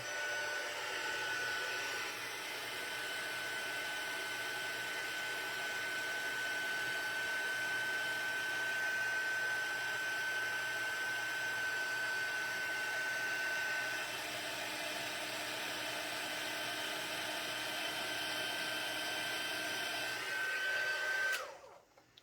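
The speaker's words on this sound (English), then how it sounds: "Let's grab the heating tool." An embossing heat tool blows hot air in a steady, loud whooshing drone with a faint high whine, running continuously at close range for about twenty seconds before abruptly cutting off, no talking.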